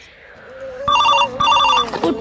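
Telephone bell ringing in two bursts of rapid trilled electronic rings, loud and close, with a voice speaking briefly over the end.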